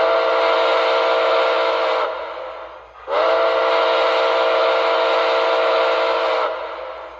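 Whistle of an MTH HO-scale Nickel Plate Road #765 2-8-4 model steam locomotive, with two long, loud, steady chime blasts and a short pause between them.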